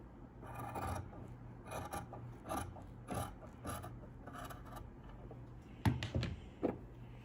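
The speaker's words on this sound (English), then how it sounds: "on the other side, we are going to trim down to 3/8 inch" Scissors trim the fabric seam allowance on a collar to 3/8 inch, a series of quiet separate snips and rasping cuts in irregular rhythm, with a sharper cluster near the end.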